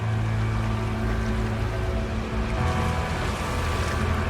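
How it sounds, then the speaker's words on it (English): Ocean waves in the video game No Man's Sky, a continuous loud wash of surf with a low rumbling hum underneath, steady throughout and without any talk. "waves are dynamic and they react to the weather"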